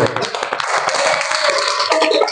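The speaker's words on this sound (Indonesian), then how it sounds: "tepuk tangan untuk semuanya" A classroom of pupils applauds together at the end of a group discussion, a dense, continuous patter of many hands clapping up close, with scattered voices mixed in.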